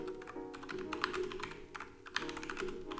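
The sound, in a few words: typing on a computer keyboard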